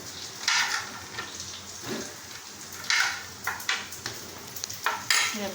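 Raw mango pieces frying and sizzling in a pan, with a steady soft sizzle and repeated bursts of stirring every second or so, fairly close.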